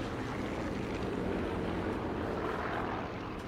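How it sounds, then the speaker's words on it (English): A propeller airplane drones overhead in the video game Sniper Elite 4, a broad, steady engine rumble at moderate level that holds throughout without a clear rise or fall. "Now I gotta wait for the plane to pass in order to make more suspicious sounds."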